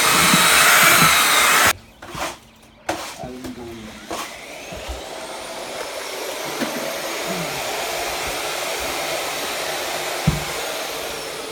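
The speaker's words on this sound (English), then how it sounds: "Mixing process of thermal insulation plaster." Thermal insulation plaster is churned with a powered mixer, producing a loud, steady motor whir that runs almost the whole time, with a few knocks and a brief dip early on.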